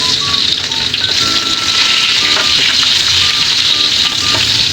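Ginger and onion frying in hot oil give a steady, loud sizzle that fills the whole stretch without pause.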